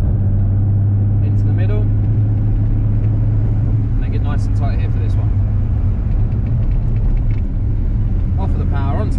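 Car engine from a vehicle nicknamed Iron Man's car, lapping a cone-marked track, a steady loud motor drone that rises and falls with throttle under continuous close coaching talk.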